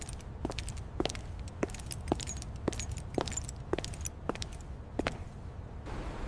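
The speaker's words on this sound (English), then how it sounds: "I lock the door before leaving." Keys jingle and clink in a steady series of sharp metallic taps while a door is locked, close and repeated about every half second over a low background hiss, without any voices.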